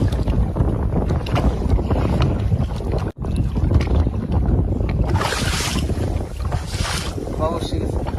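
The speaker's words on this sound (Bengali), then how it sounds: "আজকে তো হাওয়া রয়েছে, একটু বাইরে দিতে হবে তোমার" Wind blows across a big river, heard from a boat as steady roaring microphone buffeting and water noise, close and continuous, with faint voices at moments.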